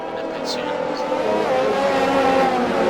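Race cars in a racing video game, a Netherlands Grand Prix league race, drone steadily under a safety car ahead of the restart, a continuous engine hum that grows slightly louder, with a voice talking over it.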